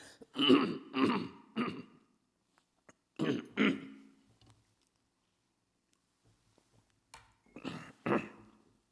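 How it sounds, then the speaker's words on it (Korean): A man with weak bronchial tubes coughs and clears his throat in short bursts during a church prayer service, a cluster of three, then two, then a final pair after a quiet gap, close by. "제가 기침 잘하잖아요"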